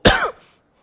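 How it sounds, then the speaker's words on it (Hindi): A single loud, close cough bursts out abruptly with a rough throaty edge, lasting a fraction of a second before trailing into silence. "कुछ अजीब सी खांसी आ रही है"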